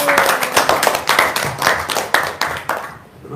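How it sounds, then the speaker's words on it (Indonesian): A quick burst of hand clapping, a steady run of sharp claps close by that stops abruptly near the end. "Tepuk tangan dulu dong."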